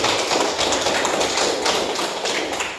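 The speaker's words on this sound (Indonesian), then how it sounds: "kita beri aplaus dulu untuk kelompok 1" Classroom applause for a student group, a dense burst of many hands clapping that fills the room evenly and fades slightly at the end.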